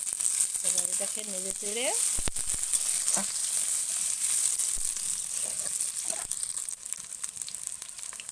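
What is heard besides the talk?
garlic, onion and green chili frying in oil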